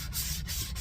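Sandpaper rubs along wooden edges in close, steady back-and-forth strokes, a brief rasping sound heard alone.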